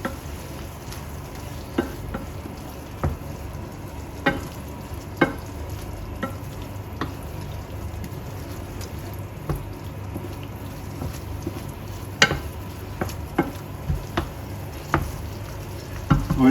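A spoon stirs chicken stroganoff sauce with ketchup in a hot pan, soft sizzling running steadily underneath while scattered clinks and scrapes of the utensil against the pan come close and clear.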